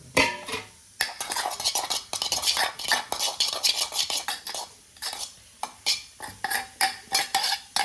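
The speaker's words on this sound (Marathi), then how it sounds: "सगळं मिक्स करून घेऊ" Repeated scraping and clinking of a spoon mixing mashed potato filling for batata vada in a metal pot, close and busy, with short rhythmic strokes and brief pauses.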